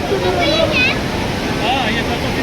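The Saraswati river rushes in a continuous broad roar near its origin at Mana village, with faint voices over the water.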